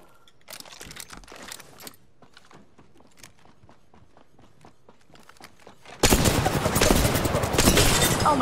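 Longbow marksman rifle shots in the video game Apex Legends: a run of sharp, separate cracks over quieter game noise, then a sudden loud, sustained burst of noisy action.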